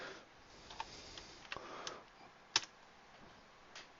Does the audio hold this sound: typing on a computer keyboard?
yes